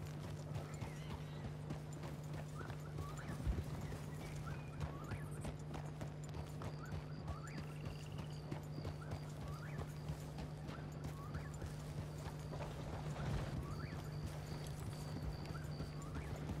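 Steady clip-clop of a horse's hooves during a calm ride in Red Dead Redemption 2, a continuous even rhythm at moderate volume with an occasional faint whinny and ambient background.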